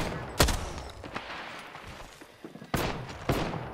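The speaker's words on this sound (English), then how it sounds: "I am taking fire." Video game shooter gunfire: loud, sharp shots crack out a few times over a busy background of fainter battle noise.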